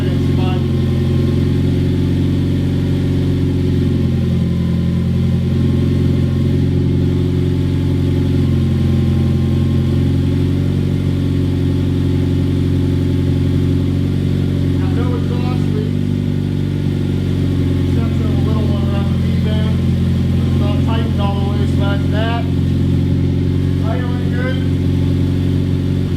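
Nissan Juke engine running with no exhaust attached and no coolant, motor mounts unbolted, a loud, steady, raw mechanical drone with a few rev changes, continuous throughout while people talk faintly in the background.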